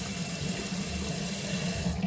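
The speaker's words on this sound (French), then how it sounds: "je vais d'abord mouiller mon visage" Tap water runs steadily into a sink while someone wets their face, a continuous broadband rush that stays even and close for the whole stretch, with no talking.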